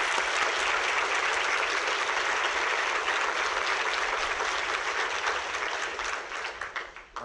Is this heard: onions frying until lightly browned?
no